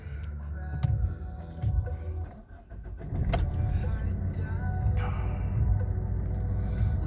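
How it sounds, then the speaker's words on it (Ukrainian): A 2006 Kia Ceed 1.6 CRDi diesel engine idles with a steady low rumble, loud and close, with a brief clunk and a shift in tone partway through and a voice speaking over it. "От так, дизеляка заводиться робить устойчиво."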